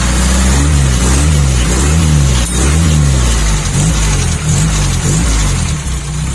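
A Mitsubishi Canter truck fitted with a fake turbo revs loud and close, with its engine note rising and falling over a constant rough idle.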